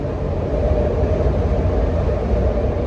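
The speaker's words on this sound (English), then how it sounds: "You hear the train?" Steady low rumble of a train rolling past at a moderate distance, continuous and even for the whole stretch, heard on a street walk in the East Kensington neighborhood of Philadelphia.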